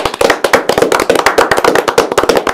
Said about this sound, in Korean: 정말 이재명 후보를 위해서 우리 박수 한번 드리겠습니다